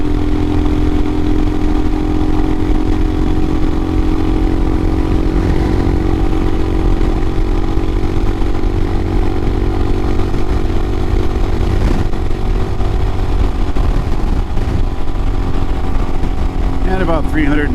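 A 2022 Royal Enfield Himalayan with a Hitchcocks carburetor conversion pulls at full throttle, its single-cylinder engine droning loud and close, with brief dips as it shifts gears at around 6,000 rpm.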